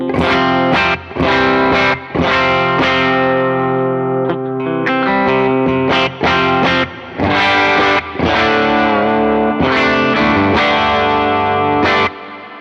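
Electric guitar on the bridge pickup played through Tone X captures with heavy distortion and chorus-like modulation, loud, close and alone, in chopped chords and picked phrases with short gaps between them.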